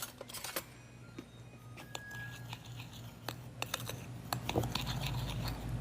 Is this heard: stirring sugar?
yes